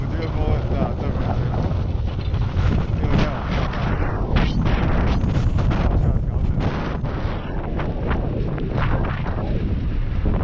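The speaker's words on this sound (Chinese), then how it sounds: "我觉得风很大" Strong wind buffeting the microphone while skiing in Hokkaido, a loud continuous roaring rumble with gusty surges throughout, and a voice heard faintly under it.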